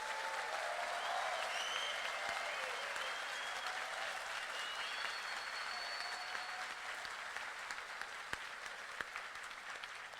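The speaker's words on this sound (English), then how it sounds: "So let's give them a giant round of applause." A hackathon audience at HackPR claps for the event team in sustained, even applause filling the room, fairly loud and steady for about ten seconds before tapering slightly.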